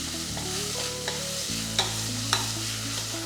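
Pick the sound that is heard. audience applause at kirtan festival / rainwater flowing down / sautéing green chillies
sautéing green chillies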